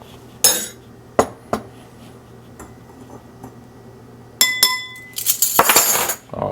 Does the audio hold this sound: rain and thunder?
no